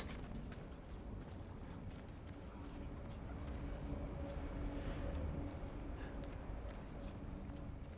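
Horse mount hooves clip-clopping in the video game Diablo 4, a steady run of footfalls over a dense game soundscape.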